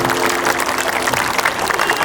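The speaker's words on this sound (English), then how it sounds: "round of applause for the sweet voice and the love it carries." A dense round of applause from an audience at a school farewell for a teacher, Mam Bajwa. The clapping is steady and fairly loud, with a faint humming tone underneath.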